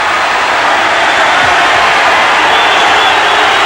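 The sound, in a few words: boxing crowd cheering and jeering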